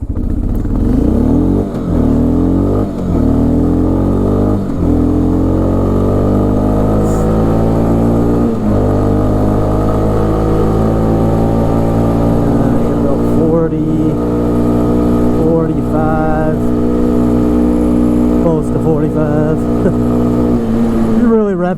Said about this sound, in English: Revving there.